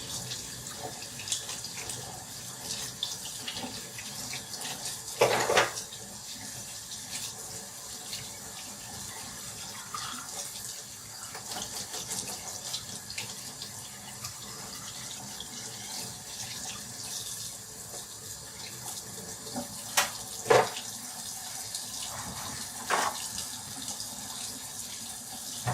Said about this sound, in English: wash them under hot water